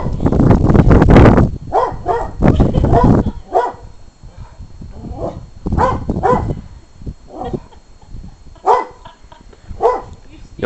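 A dog barks repeatedly at birds up in a tree, sharp yelps in irregular bursts, loud and close, with people talking over and between the barks.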